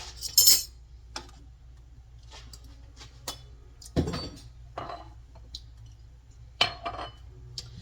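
Metal spoons clink and rattle in a kitchen drawer as clean spoons are gathered, a series of sharp, bright chinks and a heavier clatter spaced irregularly, close and fairly quiet.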